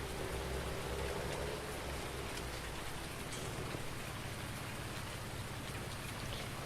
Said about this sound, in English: Quite enjoy the sound of the rain